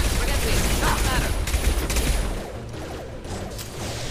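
Gunfire in the video game Mass Effect 2: dense, continuous bursts of shooting and booming impacts that ease off slightly partway through, with a voice talking over the barrage.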